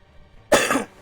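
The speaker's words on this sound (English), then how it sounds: "You don't want to have a coughing fit" A single harsh cough bursts out after a quiet moment, loud and close, lasting under half a second.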